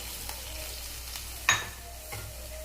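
Milk is stirred in a hot pan for kheer, giving a low, quiet sizzle with one distinct scrape of a spoon against the pan and a softer second stroke shortly after.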